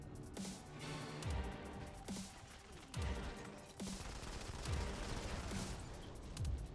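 Shoulder-mounted guns firing in the mobile shooter Modern Combat 5, a loud stream of repeated gunfire bursts with heavy low thumps roughly every second over a busy battle din.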